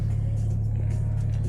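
A high-mileage BMW diesel car idles below 1000 RPM with a steady, low droning hum, close and even, with no talk over it.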